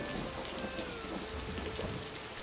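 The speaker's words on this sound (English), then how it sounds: "can't you see that it's raining, dude?" Steady rain falls in the video game Lake, a soft even hiss of drops on surfaces with a faint low rumble beneath and a thin tonal line running through, fairly quiet and without speech.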